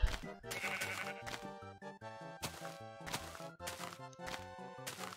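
Blocky sheep bleats from the Minecraft video game come through repeatedly over a dense, busy layer of in-game music and sound effects, loud and close throughout.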